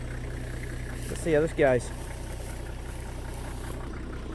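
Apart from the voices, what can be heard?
engine running after being started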